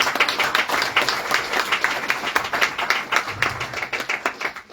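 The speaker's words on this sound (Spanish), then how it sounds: "Vamos a recibir con fuerte voto de aplausos, por favor." A church congregation applauding, with many hands clapping in a brisk, rhythmic, moderately loud burst at close range throughout.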